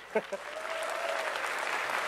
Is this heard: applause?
yes